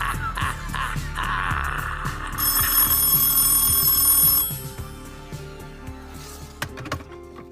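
An answering machine or recorder gives electronic tones and a sustained bright beep before recording starts, with a brief quieter tail afterward.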